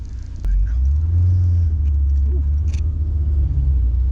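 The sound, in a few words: Honda S2000 engine running rough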